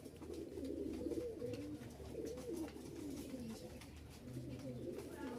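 Male Giribaz high-flying pigeons coo in low, rolling, steady murmurs, fairly close and continuous, with faint rustling behind.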